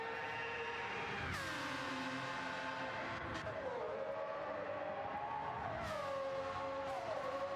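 Open-wheel race car engines in a racing video game, a continuous loud high-pitched whine that drops and climbs with gear shifts and braking, steady throughout with no talk.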